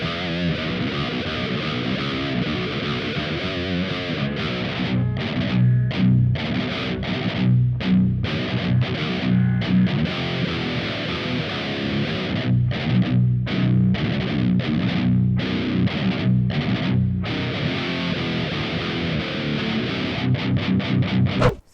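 Heavily distorted electric guitar through a Kemper Profiler Stage preset plays chugging metal riffs with rhythmic palm-muted stops, loud and continuous for over twenty seconds.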